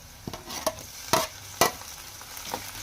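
Tomatoes tumble into a pan of two chillies and onion frying for masala upma, giving a low sizzle broken by several sharp scrapes and clatters of stirring.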